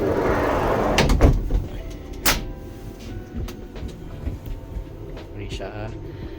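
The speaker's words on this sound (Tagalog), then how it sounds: "welcome on board to Regent's Train. We wish you a pleasant journey." Onboard a passenger train running from Prague to Vienna, a low steady rumble of the carriage fills the background, broken by a few sharp clunks and a door-like thud, with faint murmured voices.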